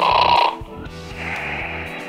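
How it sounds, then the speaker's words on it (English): Cartoon snoring in an animated jail comedy, a drawn-out snore over a faint rhythmic music bed, fairly loud and close. "Snore."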